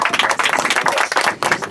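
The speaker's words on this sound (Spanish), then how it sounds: "le hacemos un aplauso al productor" A small group claps together at a gathering honoring the producer, a fast, dense patter of hands that briefly dips and resumes over under two seconds.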